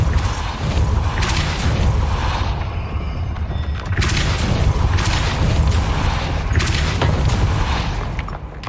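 A Depulso force spell blasts in Hogwarts Legacy, a loud, dense booming rush with rumbling and creaking layers that swells twice and holds steady throughout, no voices.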